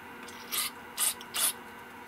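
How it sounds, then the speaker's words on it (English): Metal screw being backed out of a snowmobile carburetor's idle air mixture port, giving three short ratcheting scrapes spaced about half a second apart, close and alone. "Now I'm going to take out the idle air mixture screw."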